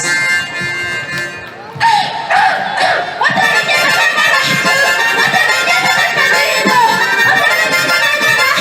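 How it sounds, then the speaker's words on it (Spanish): Crowd at a live music performance in Pampas, heard as loud, dense cheering and shouting voices with a swelling roar and whistling, continuous and close, with tonal music-like lines running through the noise. "¡Los aplausos, aplausos, aplausos, aplausos!"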